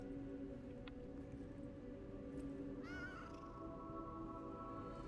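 A cat meows once, faint and in the middle distance, over a steady low hum and background noise, with no voices.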